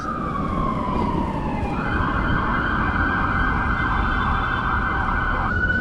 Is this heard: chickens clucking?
no